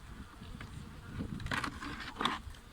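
Honeybees hum and buzz steadily at close range around hive frames, with a couple of louder buzzing bursts as insects fly near.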